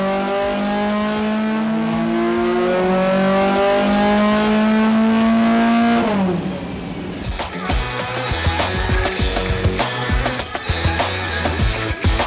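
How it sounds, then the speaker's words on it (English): A BMW M6 with a V10 engine revving, a loud sustained high-pitched wail held steady for several seconds, then dropping off into a rough, burbling idle with crackles. "what we've got here is a BMW M6 with a V10 engine"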